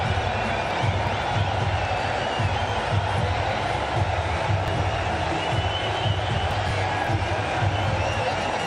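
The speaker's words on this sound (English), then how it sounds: "With that 6, it's brought the crowd to its feet." Big stadium crowd at an India versus Pakistan cricket final roaring after a six, a dense, sustained wash of cheering and noise that fills the whole stretch at steady loudness.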